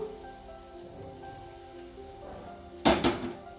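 A pan of garlic fried in sesame oil is lifted off the stove and its hot oil poured over tomatoes, giving a short loud clatter and splash near the end after quiet kitchen hum.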